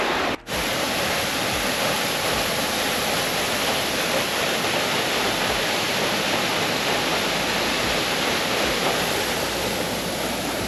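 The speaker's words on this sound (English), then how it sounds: "this waterfall connects to another waterfall and goes back up to where it was earlier" Close, loud waterfall on a coastal path pouring in a steady broadband roar, constant throughout with a brief dropout near the start.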